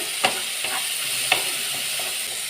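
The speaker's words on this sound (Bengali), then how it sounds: "টমেটোটা কাঁচা গন্ধটা যেন চলে যায়, সেই ততটা পর্যন্ত আমি এটাকে ভেজে নিচ্ছি।" Tomato and onion, softened with a little turmeric, sizzle steadily while being mashed and stirred in a pan, with two sharp spatula scrapes standing out over the continuous frying hiss; no voices.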